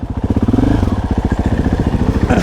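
A 450cc adventure motorcycle engine runs loud and close with its muffler submerged in water during a river crossing, a rapid, throbbing, pulsing chug that sputters unevenly for a couple of seconds.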